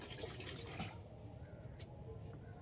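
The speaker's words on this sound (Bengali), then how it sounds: "একটু জল দিয়ে ভালো করে ধুয়ে দিই" Water runs and splashes while a small container is rinsed out by hand, a steady wash of water that fades to softer trickling, with a brief splash near the end.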